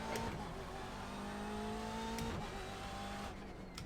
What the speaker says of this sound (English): Can hear this big boy revving out now.